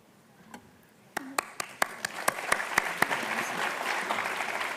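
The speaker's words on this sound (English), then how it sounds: "Please hold your applause till the end" Audience at a college awards ceremony breaking into clapping after a quiet start, first a few separate sharp claps, then building into a denser, spreading round of applause.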